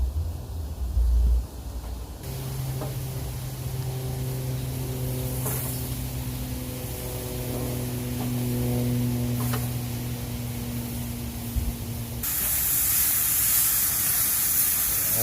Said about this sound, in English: Got some serious flame on here. Let's sear these up nice.